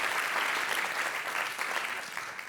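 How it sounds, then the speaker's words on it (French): An audience at a round table forum on supporting entrepreneurship claps in a continuous, even burst of applause, close and full throughout. "je voudrais solliciter un applaudissement collectif pour toutes ces personnes"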